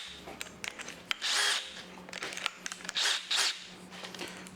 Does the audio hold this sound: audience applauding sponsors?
no